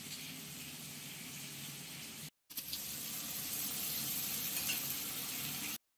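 A steady, loud sizzle of ginger, cumin and green chilli paste frying in a hot wok, continuous apart from two brief cutoffs.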